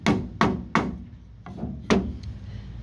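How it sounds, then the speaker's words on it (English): Hammer blows on wood to drive a nail back out, with four sharp, loud whacks in an uneven rhythm and brief woody ringing after each strike. "all you do is just hammer it out like this"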